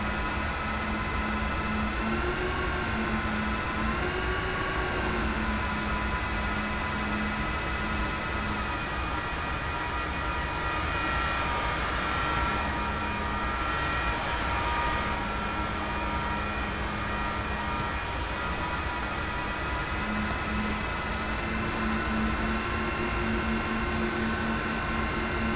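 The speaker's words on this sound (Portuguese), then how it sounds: "Olha o som do motor." A McDonnell Douglas F-4E Phantom II's jet engines in the DCS flight simulator give a steady, loud, continuous drone with layered tonal whines that slowly waver in pitch, with no talking.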